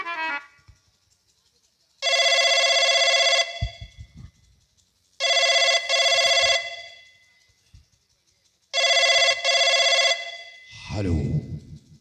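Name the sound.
telephone ringing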